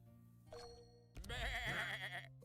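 A sheep bleats in the video game Across the Obelisk with a loud, wavering cry that comes after a brief fainter note over a quiet game backdrop.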